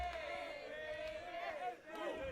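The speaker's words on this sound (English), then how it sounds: "Crowd's getting excited with these 90-plus averages that we're seeing." Darts tournament crowd at the CDC Continental Cup, a steady, fairly faint arena roar of voices with a few swelling shouts over a couple of seconds.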